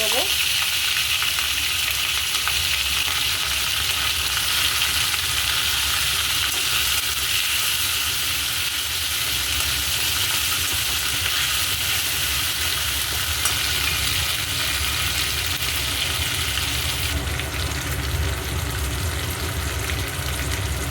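Ginger and green chili paste, chopped tomato and turmeric sizzle hard in hot oil for a vegetarian potato and pointed gourd curry, a loud steady frying hiss that carries on unbroken with no voices.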